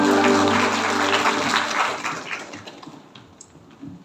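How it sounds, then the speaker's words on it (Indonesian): A church prayer-meeting congregation claps for Jesus, loud dense applause that fades out over about three seconds, leaving a few scattered claps and faint room noise. "Beri tepuk tangan buat Tuhan Yesus."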